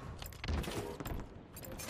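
Video game gunfire in an 8-player Oddball match on Halo's Live Fire map, a quick clatter of shots and thumps over a noisy game mix, with players talking over it.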